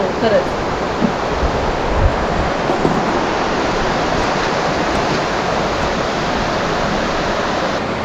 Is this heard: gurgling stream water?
yes